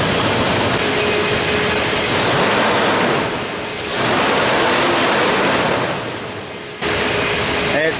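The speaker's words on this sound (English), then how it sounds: "All you can hear is that big old fan running." A loud, constant broadband whoosh of a big fan running on a vehicle with its engine running, with slight dips in level, steady throughout with no distinct beats.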